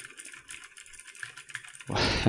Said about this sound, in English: it would be due to more keyboard clacking